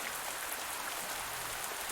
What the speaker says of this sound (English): I was going to complain about the rain. I'm not complaining about the rain.